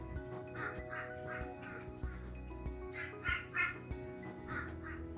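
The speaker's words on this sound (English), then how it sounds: "I have a family of crows living near my workshop who love to get into my videos." A family of crows caws near a workshop, repeated harsh calls in short bursts of two or three, moderately close, over a faint steady background hum.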